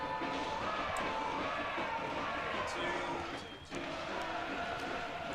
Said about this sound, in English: Crowd actually absolutely electrifying here.